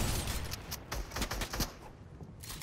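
Shotgun blasts in the video game Fortnite, several sharp loud bursts spread unevenly across the moment amid busy game noise, with no talk.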